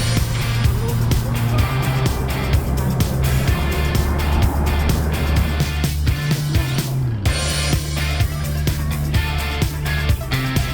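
Car driving along a road through Tibet toward Lhasa, a steady engine and road drone under music-like tonal layers, continuous and fairly loud with no talk.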